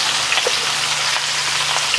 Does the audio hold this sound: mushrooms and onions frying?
yes